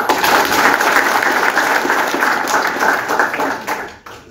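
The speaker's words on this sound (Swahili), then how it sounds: "Mchungaji apigiwe makofi mazuri." A church congregation gives the pastor a loud, dense round of applause, many hands clapping at once at a steady level before tapering off near the end.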